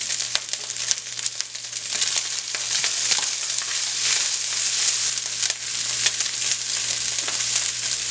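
Frozen vegetables sizzle steadily in a hot pan for a family budget lunch, a dense continuous frying hiss with faint stirring scrapes, close and fairly loud with no talking.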